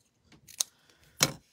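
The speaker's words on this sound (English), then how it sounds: "So I'm going to trim that," Scissors trim a small piece of paper card while a gnome greeting card is made, giving two or three quick, close snips with short bursts of crisp crunch and brief gaps of silence between them.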